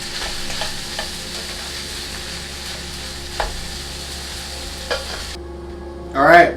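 Rice sizzles steadily as it is stir-fried in a hot pan for spicy pineapple fried rice, a constant frying hiss with a few light scrapes and clatters, and a brief voice at the end.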